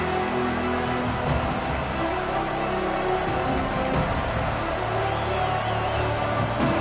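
A football stadium crowd keeps up a dense, continuous roar with scattered cheers and whoops, loud and enveloping throughout.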